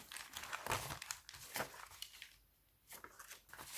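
Gift wrapping paper crinkling and rustling close by in several quick bursts of handling, with a short quiet pause before the crinkling starts again.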